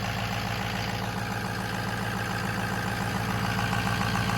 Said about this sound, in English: Base engine sounds all right.